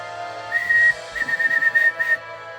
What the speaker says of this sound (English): Thomas blew his whistle really loudly